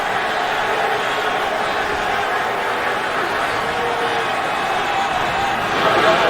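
A football stadium crowd at a Colorado versus Utah game roars in sustained, loud displeasure after a penalty flag, a dense continuous wash of voices without a break.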